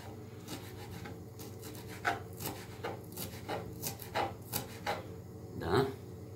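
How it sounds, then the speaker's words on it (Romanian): A knife chops dill on a wooden cutting board, giving a series of soft, irregular taps and rubs close by, with a slightly louder knock near the end. "Tăiem mărarul care l-avem pregătit aici."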